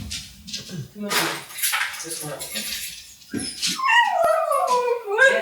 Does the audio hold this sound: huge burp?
no